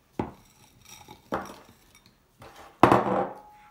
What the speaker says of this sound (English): And then we're going to be adding some frozen mango.